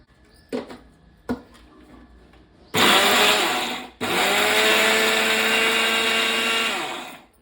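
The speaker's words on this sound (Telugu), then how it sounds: "ధనియాలు అవన్నీ ఈ మిక్సీలో వేసి ఫస్ట్ ముందు ఇవే చేయాలన్నమాట" A kitchen mixer grinder whirs as it grinds roasted coriander seeds for curry leaf powder: two brief taps, then a loud motor burst that stops, then a longer steady grinding run that winds down at the end.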